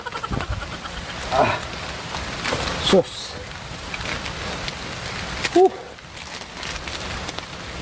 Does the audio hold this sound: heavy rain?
yes